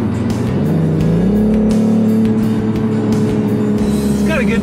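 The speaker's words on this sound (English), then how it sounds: "It has an excellent exhaust note, especially in sport mode." A 2021 BMW M440 automatic in sport mode gives a steady, loud engine and exhaust drone from inside the car, pitch climbing through the gears, with a voice talking over it.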